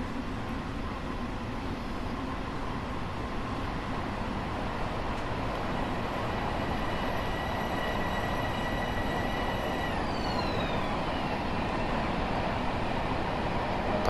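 A train in the Train Sim World game rolls steadily into a long station, a constant low rumble of wheels and running gear with a gliding tone partway through, with no talking.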